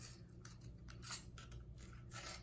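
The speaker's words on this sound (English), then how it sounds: "I'm just going to use my scissors and cut down" Scissors cut down into a cardboard toilet paper roll, giving a series of faint, close snips and crisp rustles, with a slightly sharper click near the middle, over a quiet room.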